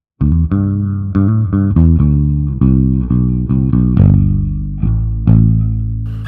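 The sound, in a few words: guitar played as bass with room reverb, Helix HX Stomp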